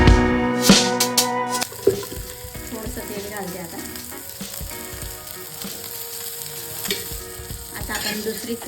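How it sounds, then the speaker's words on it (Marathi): Mandeli fish fry crisply in hot oil in a pan, a steady close sizzle and crackle, opened by a few sharp clinks and scrapes of handling at the start. "मच्छी अशी फ्राय करून घ्यायची आहे।"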